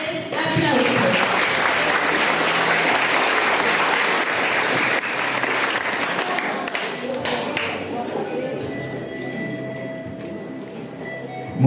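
Audience applause at a student essay and speech contest, a loud sustained round of clapping from a large crowd that stays steady for most of its length before easing off slightly toward the end.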